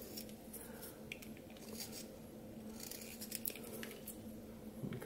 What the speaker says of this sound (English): You can see I'm taking the knife and I'm just scooping out wood.